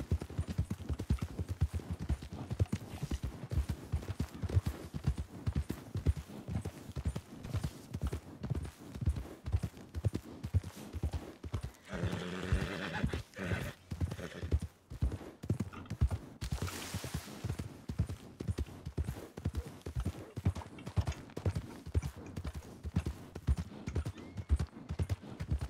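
Horse hooves clip-clop in a steady, continuous trot throughout in the RedM Western game, with a brief whinny partway through and no talking.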